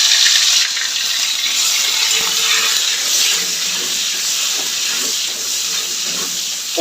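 Onion dropped into hot oil in a pan for a curry after frying eggs, giving a loud continuous sizzle and hiss close by, steady and without talk.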